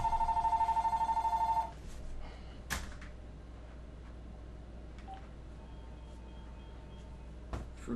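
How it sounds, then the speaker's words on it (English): A telephone rings during a hockey video game session, sounding as a rapid, pulsed electronic trill for about a second and a half. A few faint knocks and thuds follow in a quiet room. "The phone's ringing."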